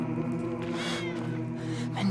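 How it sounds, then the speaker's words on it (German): A cat meows in the 11-11 Memories Retold video game, with a rising tonal cry near the middle over a steady background music drone and a brief voice. "Wie zum Teufel kommt die Katze hier rein?"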